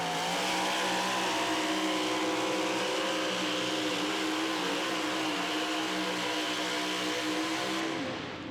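The 4WD pulling truck Stray Dog drags a sled down the track at a pulling event in Indianapolis, its engine roaring loud and sustained at high revs, then tapering off at the end.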